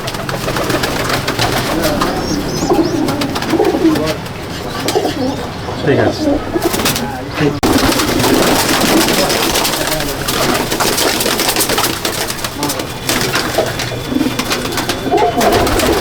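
Racing pigeons in a loft at Jangipur, Murshidabad, coo and rustle in a dense, constant flock noise while someone talks briefly over it.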